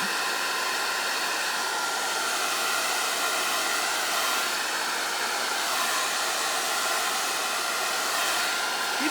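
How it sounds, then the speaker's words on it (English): A hair dryer blows alcohol ink across vellum, its steady, loud airflow hissing continuously and close up, with no voices over it. "And then I take my hair dryer and blow it around."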